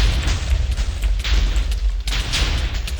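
TNT explosions in Minecraft, a rapid run of loud booming blasts overlapping one another, dense and close for about three seconds with no talk.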